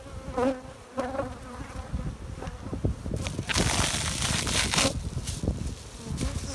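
Bees hum and drone continuously around a beehive in a yard, with individual insects buzzing close by and passing over a steady swarm background.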